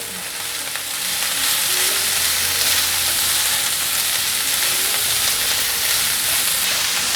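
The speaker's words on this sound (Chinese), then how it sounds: "放入高丽菜， 还有大白菜的梗，快速翻拌" Carrot, cabbage and napa cabbage stems stir-fried in a wok give a steady, loud sizzle with scraping stir noises, continuous throughout without talking.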